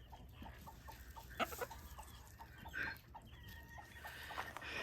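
Hens cluck in short repeated bursts, fairly close and quiet, with a few louder squawks mixed in and a faint high background hum.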